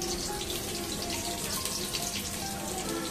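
Chopped onions fry in hot oil, a dense, steady sizzle and crackle close by with no pauses.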